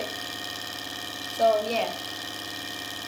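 A small hot air engine with a cloth wick runs with a steady, rapid mechanical chatter, while someone speaks briefly over it.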